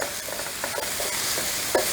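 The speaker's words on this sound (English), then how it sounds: "So I get those all mixed up with my meat." Ground beef is stirred and mixed with cumin and salt for a beans and beef enchilada casserole, giving a close, steady sizzling scrape with soft irregular stirring knocks.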